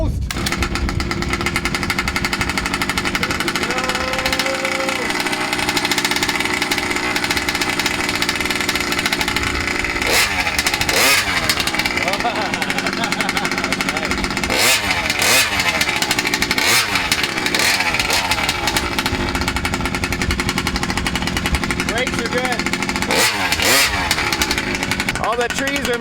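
Small 32cc gas engine of a giant Vekta 5 1500 RC race truck buzzing and revving outdoors on a windy day, loud and continuous with sharp throttle bursts, while people talk nearby.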